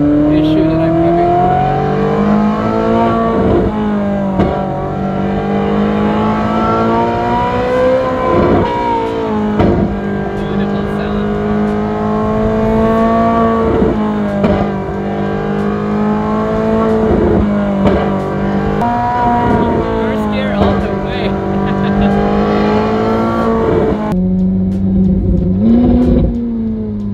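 A Liberty Walk BMW M4 makes a short pull, its engine revving and accelerating through rising and falling sweeps, loud and close, with brief dips between pulls and a voice talking now and then.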